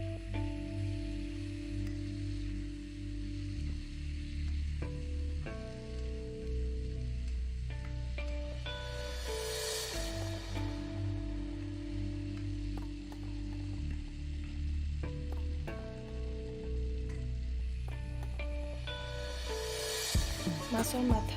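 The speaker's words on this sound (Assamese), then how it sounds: "জালুকখিনি তেলত এইদৰে দিয়াৰ পাছত বেছি সময় ভাজিব নালাগে" Taro leaves and chopped tomatoes fry in hot oil, making a continuous close sizzle with occasional clinks and scrapes of stirring.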